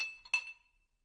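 Glasses clink together in a toast, one light chime followed by a second brighter, ringing clink that decays slowly, close and clear with no talk.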